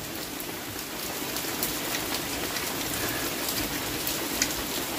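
Steady rain falling during a thunderstorm, an even, dense patter of drops on surfaces close by, continuous and fairly loud with no talking.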